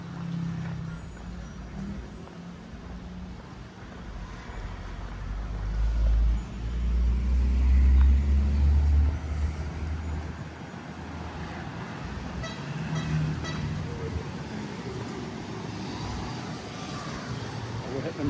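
Traffic on a busy main road in Bangkok, a steady rumble of passing cars and buses with an occasional horn toot, while a voice talks over it.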